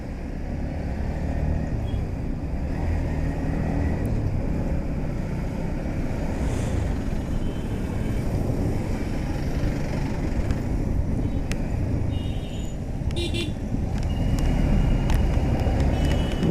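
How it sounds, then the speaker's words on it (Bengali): Steady engine rumble of vehicles stuck in a long road traffic jam in rain, heard from a motorcycle, with a continuous low drone and occasional faint horns. "এত লম্বা জ্যাম"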